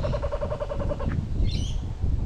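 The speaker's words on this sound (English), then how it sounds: "That's a kookaburra up there." A kookaburra calls outdoors on a cold morning by a surf beach, sending a run of evenly spaced, rhythmic hoots over steady wind and surf noise, then a brief higher chatter near the end.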